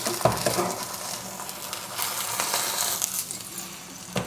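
Egg-in-bread sizzles in a frying pan as it is flipped, with a busy frying hiss broken by a few sharp scrapes and clatters of the turner against the pan, all close by.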